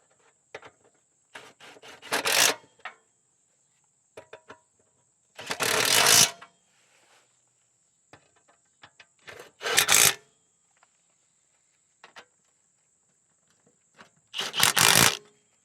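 A ratchet tightens the 12mm headed bolts on a Subaru Outback propshaft, with several separate bursts of rapid clicking spaced by quiet gaps and faint handling taps in between, close and clear with no talk.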